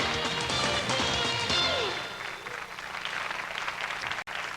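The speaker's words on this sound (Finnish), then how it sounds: "Aplodia Ollille." A studio audience on a Finnish edition of the game show The Price Is Right breaks into applause, strongest at first and then thinning into a softer, lingering patter, with music and a voice underneath.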